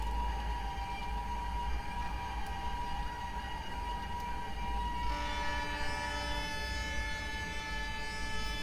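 A long, steady train horn tone from a train simulator game sounds, shifting to a different, richer chord partway through, over a low rumbling background.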